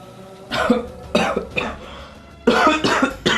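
A person coughs repeatedly, several harsh, close bursts in quick clusters separated by short pauses.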